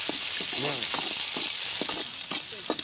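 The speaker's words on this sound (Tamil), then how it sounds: "இதை நல்லா வதக்கலாம் இப்போ ஒரு தக்காளி கட் பண்ணியிருந்தேன் அதை போட்டுக்கலாம்" Chopped tomato sautés in a pan for a village-style pork fry, hissing steadily while a spatula scrapes and stirs in short irregular strokes, close up, with faint background sounds and no clear speech.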